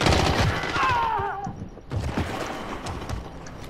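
Rapid gunfire rattles in Call of Duty: Black Ops 4, with close bursts of shots and a whistling streak partway through. The shooting continues with scattered reports in the background, without talk.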